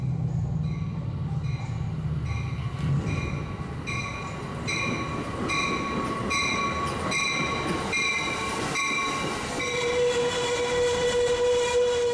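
An Amtrak Capital Corridor passenger train rumbles and rolls past nearby, with steady clattering wheels, metallic squeals and a sustained high tone near the end.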